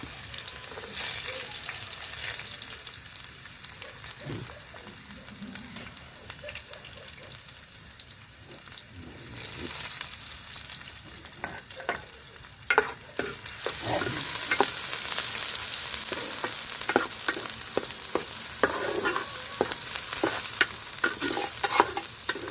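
Onions go into a pan with cinnamon, cardamom and cloves for an aloo kurma, sizzling and frying while a utensil stirs and scrapes. The sizzle swells and grows brighter in the second half, with sharp stirring clicks and no talk.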